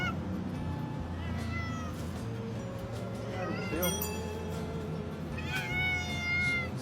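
A cat meows several times in short rising calls, close by, while a person talks to it over steady low background noise, likely outdoors in BGC.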